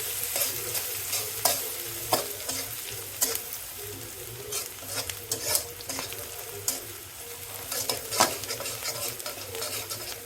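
Leafy greens cooking in a pan, a soft continuous sizzle under frequent sharp scrapes and taps of a utensil stirring, moderately close and without speech.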